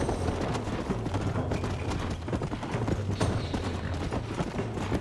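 Horse hooves clip-clop in Red Dead Redemption, a steady, moderately quiet rhythmic trot of many quick hoofbeats continuing throughout with game ambience underneath.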